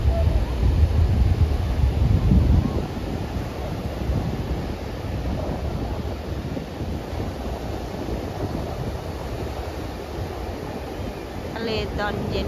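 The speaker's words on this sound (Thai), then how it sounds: "ทะเลตอนเย็นน้ำจะขึ้น" Evening sea waves roll onto a sandy beach at high tide, a steady wash of surf mixed with wind buffeting the microphone, with a heavier surge at the start and a constant broad roar throughout.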